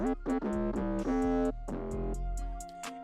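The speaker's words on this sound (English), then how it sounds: "you would have that cool effect that it deletes all the lows" A chopped vocal lead for a moombahton track, built in FL Studio, with an equalizer stripping out the low end. Short, choppy pitched notes hit in a quick stuttering rhythm, loud and close, with no talking.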